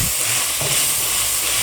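Ground tamarind paste with mustard seeds sautés in sesame oil, giving a loud, steady sizzle and hiss with faint stirring scrapes, close up and without talk.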